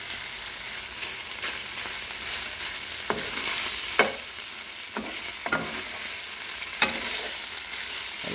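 Beef bistek fries and sizzles steadily in a pan while a spoon stirs, with several sharp scraping clacks against the pan over the constant hiss, close and fairly quiet.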